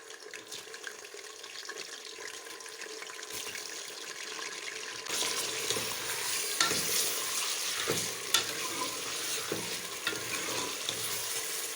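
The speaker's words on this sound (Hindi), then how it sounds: "अब मैं इसे उस वक्त तक भूनूंगी तक इसका कलर भी चेंज हो जाए" Meat sizzles and is stirred in a pot with whole garam masala, a steady frying hiss with scraping stirs that grows louder and busier partway through, with no talking.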